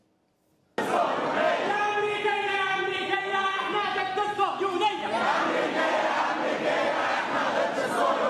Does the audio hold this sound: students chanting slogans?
yes